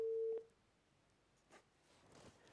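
A telephone line after a disconnected call, a single steady tone lasting under half a second, then near silence with faint clicks, no speech.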